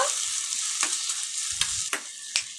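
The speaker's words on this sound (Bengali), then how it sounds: "আমরা চিনি দিয়ে এটাকে একটু ভালো করে নেড়ে নিচ্ছি" Paneer and potato devil curry being stirred in a pan after a little sugar is added, a steady close sizzle broken by several distinct scraping strokes of the spoon, with no talking.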